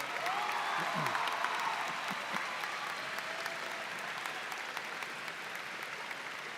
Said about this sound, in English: Please offer them a round of your appreciation and applause.